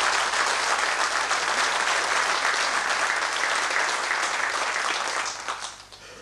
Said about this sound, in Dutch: Ik zou zeggen, applaus voor meneer Litten.